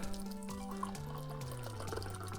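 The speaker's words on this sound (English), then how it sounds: "let's give it a pour" A cocktail poured from a container into a glass, a close gurgling pour whose pitch steps steadily downward as the glass fills, with faint drips.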